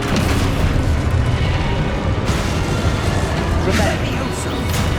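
Descendo spell impact in Hogwarts Legacy, heard as a loud, dense booming crash that rolls on for several seconds beneath a constant wash of game sound and talk.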